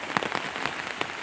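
Rain falls on a plantation garden, a close, steady hiss broken by soft scattered drop patters over a short stretch.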